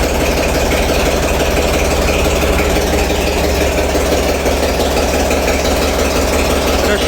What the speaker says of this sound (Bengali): আর এটা হচ্ছে জেনারেটর